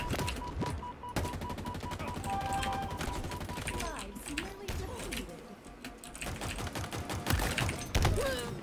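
Rapid video game gunfire rattles in dense bursts through most of the span, with scattered mechanical clatter and game effects layered in.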